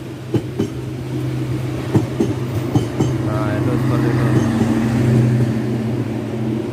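A train rolls over a railway bridge at Cangkring village, heard from underneath: a steady low rumble with a sustained horn-like tone and repeated clacking knocks of the wheels, fairly loud and continuous, with voices talking over it.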